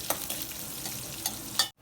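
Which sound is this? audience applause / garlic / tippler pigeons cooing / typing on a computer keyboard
garlic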